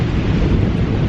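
Heavy rain pours steadily over the Lake District fells near Haystacks and Fleetwood Pike, a loud, dense, close-up roar with wind buffeting the microphone throughout the brief moment.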